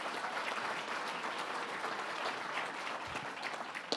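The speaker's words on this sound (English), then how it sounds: "Let's give them a round of applause." Audience applause at a governor's offshore wind announcement held at Fordham University, a steady dense clapping from a large crowd that holds at an even level for about four seconds with no talk over it.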